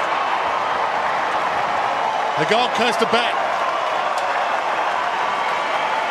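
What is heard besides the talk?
crowd cheering at AFL football match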